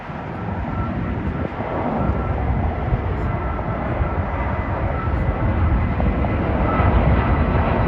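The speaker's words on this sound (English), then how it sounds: "comes Delta 1795 from Miami to JFK with an Airbus 320" A Delta Airbus A320 inbound from Miami flies in toward JFK, its jet roar loud and continuous, building gradually over several seconds near a Long Island rail station.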